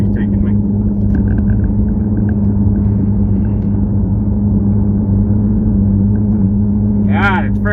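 Steady low car engine hum with road rumble throughout a drive, loud and continuous, with a brief higher whine near the end.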